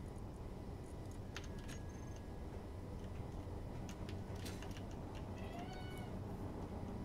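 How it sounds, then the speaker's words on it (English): A cat meows a few times, faint and somewhat distant, with short rising calls heard over a constant hissing background hum and no talk. "Meow indeed."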